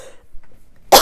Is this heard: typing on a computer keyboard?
no